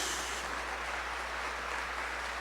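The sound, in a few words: congregation applauding in church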